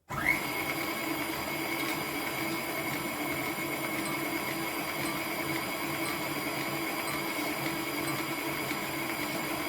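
Kitchen machine slicing an onion, a steady whirring motor hum that starts abruptly and runs evenly, close and alone with no talk.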